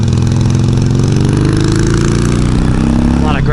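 A motorcycle engine drones loud and steady through a bumpy ride, its low harmonic hum shifting slightly in pitch as the bike bounces along, with a brief whoosh near the end.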